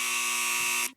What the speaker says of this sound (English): You get a buzzer.